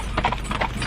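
Horses' hooves clip-clopping on a tarmac road during driving exercises with a five-in-hand team, a quick cluster of several close hoof strikes over steady background noise.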